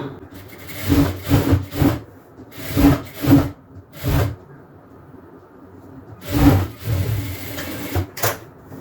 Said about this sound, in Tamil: இப்போ நம்ம தையல் போட்டுக்கலாம்.